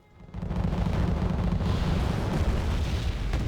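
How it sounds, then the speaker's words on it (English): French Caesar artillery firing in the strategy game Wargame Red Dragon, a loud deep rumbling blast that swells in and rolls on as a sustained booming roar, with no talk over it. "The pretty nice French artillery."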